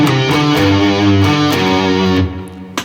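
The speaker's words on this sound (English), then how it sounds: "Okay, the first line of the intro sounds like this." Distorted electric guitar in standard tuning plays the opening line of a song's intro, a quick series of loud picked notes in a driving rhythm that stops and decays near the end.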